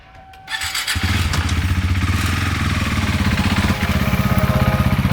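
A KTM 390 Duke motorcycle engine cranks and catches after a brief pause, then settles into a steady, loud, close single-cylinder idle with an even pulsing beat for several seconds.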